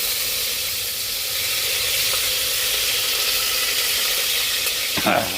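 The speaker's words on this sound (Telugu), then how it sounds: "పచ్చిమిర్చి బో పొంగుతున్నాయి" Green chillies frying in hot oil, a steady loud sizzle and hiss throughout with a brief clatter near the end.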